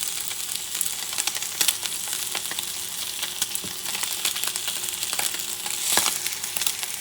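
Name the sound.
wagyu steak sizzling in frying pan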